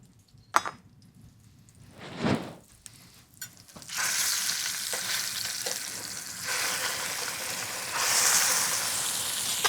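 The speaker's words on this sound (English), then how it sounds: "So I'm going to gently sear it on all sides." Salmon searing in a pan over just-below-medium heat: a few scattered clicks and a brief handling rustle, then a steady close sizzle starts and grows louder toward the end, with no talking.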